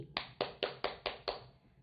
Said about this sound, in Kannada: ನಿಮ್ಮೆಲ್ಲರ ಪರವಾಗಿ ಆ ಎಲ್ಲ ಮಕ್ಕಳಿಗೆ ಮತ್ತು ಅಜ್ಜಿಗೆ ಚಪ್ಪಾಳೆ